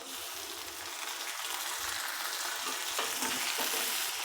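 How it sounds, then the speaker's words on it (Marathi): Mustard seeds, cumin, thickly cut onion and tomato fry in hot oil, a steady close sizzle with stirring scrapes throughout and no talking. "तर तेल तापलेलं आहे मोहरी घालू आपण जिरं घालू कांदा घालू"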